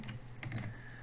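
A couple of quick, soft computer keyboard key presses for a Control D shortcut while building a PowerPoint quiz game, close and isolated with no talk.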